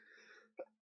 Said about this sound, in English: Sorry guys, I got this cough.